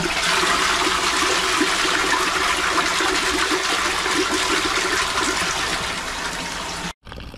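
A toilet in a caravan bathroom flushes with a loud, steady rush of water that runs for about seven seconds, then cuts off abruptly, followed by a brief softer trickle.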